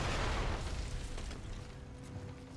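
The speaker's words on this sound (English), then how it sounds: "I'm going to take him out with a hand cannon right here." A hand cannon fires once in the action game Nioh, a heavy booming blast that decays quickly into rumbling echoes.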